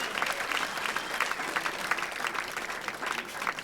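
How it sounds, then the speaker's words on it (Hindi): Audience applause at a mushaira poetry gathering in Lucknow, welcoming a poet to the stage: dense, steady clapping from a large crowd, fairly close and sustained throughout with no voices over it. "ज़ोरदार तालियों से इस्तकबाल कीजिए जनाब महशर"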